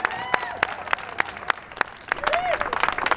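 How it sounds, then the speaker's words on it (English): Crowd applause at a Public Option Now rally in San Francisco, a dense wash of clapping with sharp individual claps and a few high cheers or whoops rising near the end, fairly close and sustained throughout. "Can we give a big round of applause to the organizer and all the people that got us here together?"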